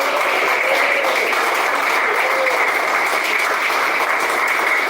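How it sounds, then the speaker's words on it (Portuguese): A church congregation applauding during a sermon, a steady wash of clapping that fills the whole stretch at even loudness with no voices standing out. "Quem bate palmas?"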